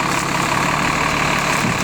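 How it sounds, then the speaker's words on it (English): A bus engine idles close by, a loud, steady mid-to-low rumble that holds constant throughout with no talking. "The bus stopped. It doesn't normally do that in terms of turning off the engine."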